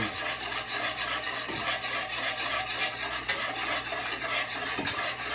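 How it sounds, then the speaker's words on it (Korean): A whisk stirs sugar into a soy sauce pickle brine until it dissolves, giving a steady close scraping and swishing in a bowl that runs continuously with faint irregular taps against the sides. "설탕이 완전 다 녹을 때까지 이거를 풀어주는 거예요"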